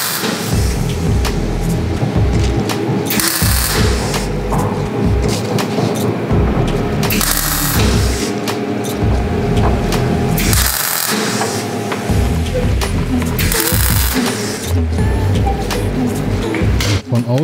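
Car body sheet metal on a three-year-old car fitted with an Oettinger TCR Street Kit is spot welded, with loud, harsh buzzing bursts of a second or so repeating every few seconds amid workshop noise and some talk.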